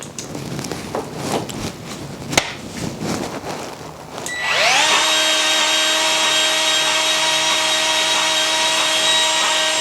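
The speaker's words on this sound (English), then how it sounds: "we're going to pump this with grease till we see fresh grease come out" A grease gun pumps grease into a gear on an Ariens snow blower: scattered close clicks and knocks, then a loud, steady motorized whine that holds to the end.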